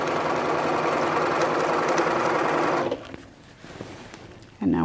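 A sewing machine runs a hem on a Butterick 4498 garment, a steady close mechanical whirring for about three seconds before it stops, then quiet handling noise and a brief restart at the end.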